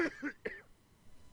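A short, soft double cough, close and alone, followed by quiet room noise.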